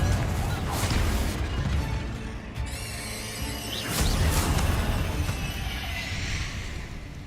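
A Confringo fire spell in Hogwarts Legacy bursts with crashing, crackling blasts. Two louder surges rise out of a continuous rumbling roar.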